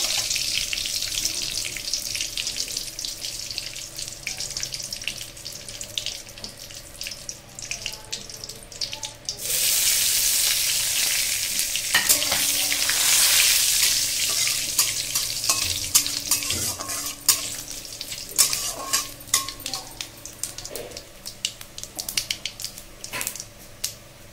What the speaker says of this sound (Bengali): তেজপাতাটা দিলাম, জিরেটা দেবো, জিরে দিয়ে ফোড়ন হয়ে গেলে মাছ ঢেলে দেবো।